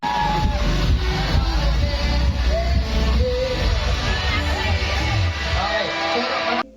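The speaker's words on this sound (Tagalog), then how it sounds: "Palakpakan na kasama sigawan" Studio audience at a live variety show cheering and shouting over steady applause, a loud, continuous crowd roar with music running underneath throughout.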